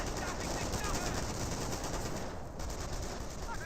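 Dense automatic gunfire and explosions from a World War II real-time strategy battle in Company of Heroes roll on without a break for several seconds. A steady, loud wall of rattling shots fills the mix.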